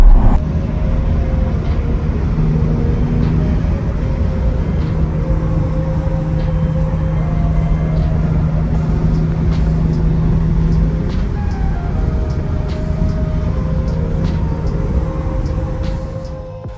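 A Porsche 992 Targa 4 GTS on a drive, heard from inside as a steady, low engine and road drone with a faint tonal hum that holds evenly throughout, with no talking.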